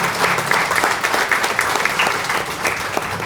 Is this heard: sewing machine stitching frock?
no